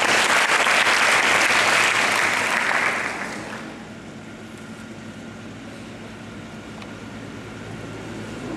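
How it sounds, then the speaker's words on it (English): Applause from the audience at a school installation ceremony honouring a student, loud dense clapping for about three seconds that then breaks off, leaving quiet hall ambience. "Please give her a big round of applause"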